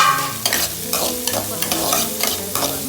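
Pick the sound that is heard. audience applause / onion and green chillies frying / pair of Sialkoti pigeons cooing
onion and green chillies frying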